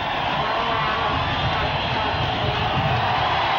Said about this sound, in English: Salvadoran fans finally have something to cheer about